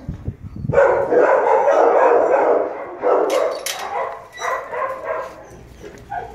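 Dogs barking as they are brought out to meet another dog, a loud run of close barks and yips that break into shorter bursts and fade toward the end.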